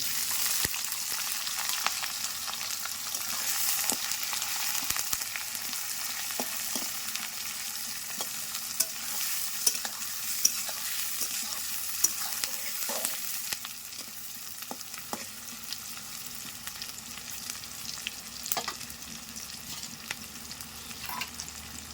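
Chopped onion sizzles in a pan alongside potatoes, a steady near hiss broken by scattered scraping clicks of a spatula stirring throughout.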